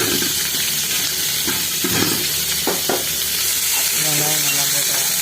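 Chopped onions fry in tempering oil with mustard seeds, cumin, curry leaves, garlic and green chillies, giving a loud, continuous sizzle up close, with scattered stirring knocks and a brief bubbling hiss near the end.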